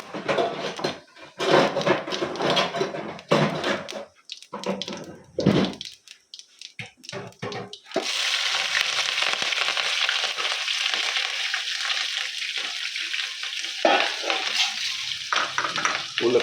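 Cumin seeds and chillies dropped into hot oil in a pan, with scraping and stirring clatter, then a loud, steady sizzle close up that carries on for several seconds.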